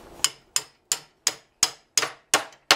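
A greased 3/8 threaded rod or bolt is hammered through a hole while assembling a tripod, eight sharp metallic knocks at a steady, slightly quickening rhythm, close and clear with short decays and no talking.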